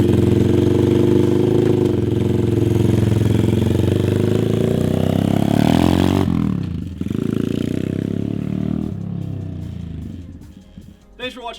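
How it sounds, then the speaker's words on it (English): A clutch-operated pit bike runs on a dirt ride, its small engine buzzing loud and close and rising steadily before cutting back sharply. Rougher, uneven revving and clatter follow, then it fades toward the end. "Let's do a quick ride with the clutch."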